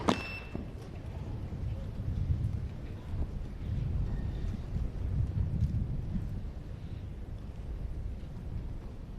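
Wind gusts across an outdoor grass tennis court at Wimbledon, a steady low rumbling buffet against the microphone lasting the whole stretch with surging swells and faint background crowd noise.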